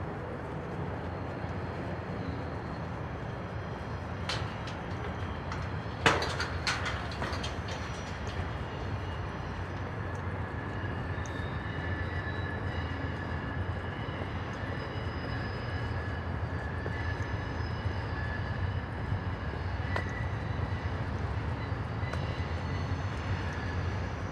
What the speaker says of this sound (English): You guys are hearing that noise? That would be the train,